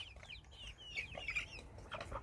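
Hens and young chicks cluck and chirp softly, close by, with several short overlapping calls and high peeps in a quiet farmyard.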